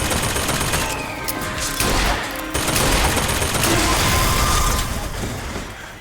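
An automated turret in Bioshock Infinite keeps up a steady burst of rapid gunfire for several seconds, dense and loud, with clanking mechanical noise underneath.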